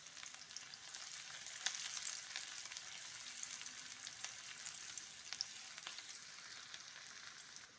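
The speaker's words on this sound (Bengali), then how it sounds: "এবার আমি এতে দেব একটা পেঁয়াজ কুচি। পেঁয়াজটা একটু ভালো করে লাল করে নেব।" Chopped onion frying in hot oil in a pan: a soft, steady sizzle and crackle with occasional sharper pops, fairly faint and continuous, with no talking.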